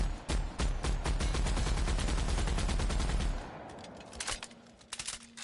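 A gun fires in The Outer Worlds, a loud, rapid automatic burst lasting several seconds that cuts off abruptly, followed by a few scattered mechanical clicks and clatters.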